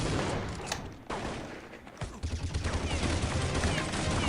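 Automatic gunfire in the game Counter-Strike Online, dense bursts and rapid repeated shots with a loud, busy mix throughout, growing into a steady rattling stream in the second half.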